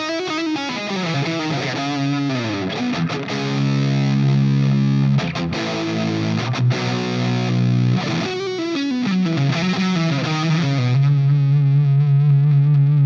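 An Ibanez AZ Standard electric guitar plays with heavy gain, producing distorted, sustained riffs and bends that ring loud and close with no talking.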